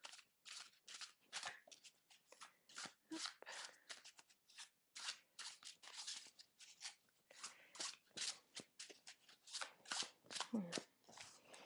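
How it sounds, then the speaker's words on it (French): Tarot cards are shuffled by hand in a quiet room during a yin yoga session, a long run of quick, crisp riffling bursts with brief pauses between them, close and soft. "Je vais vous inviter à présent à battre à nouveau vos cartes."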